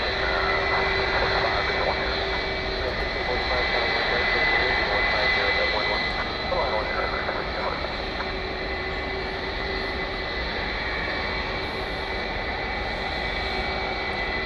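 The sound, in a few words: jet airliner taxiing at DFW Airport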